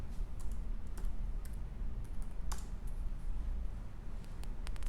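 Quiet typing on a computer keyboard, with scattered light key clicks in short bursts and pauses, heard faintly over a low steady background hum.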